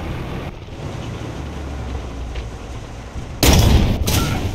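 Gunfire from the tank battle game War Thunder erupts in a loud, sharp burst near the end, following several seconds of steady engine rumble and background noise, with no voices.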